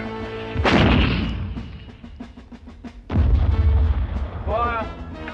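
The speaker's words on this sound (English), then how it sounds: "Put a couple of bombs over on the trenches in front." Artillery bombs fired at enemy trenches in a wartime battle scene: two heavy, booming blasts with rumbling low-end decay, the second following a few seconds after the first, with a voice calling out between them.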